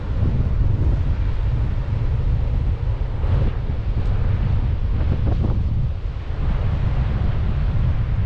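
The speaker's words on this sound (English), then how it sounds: "A little bit windy today." Strong wind at a hilltop lighthouse roars and buffets the microphone constantly, a loud rumbling gust with no pauses.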